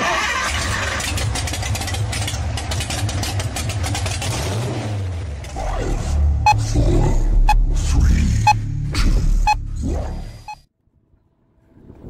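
A three-wheeled motor vehicle drives up a private drive, its engine droning steadily and then revving harder at close range before cutting off abruptly, with voices faintly present underneath.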